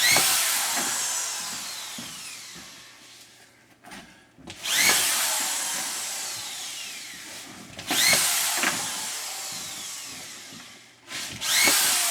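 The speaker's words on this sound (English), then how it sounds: "all I'm doing is putting the screws to it" A power drill drives screws into a sheet in three loud bursts, each a rising whine that winds down, separated by short pauses and light handling clatter.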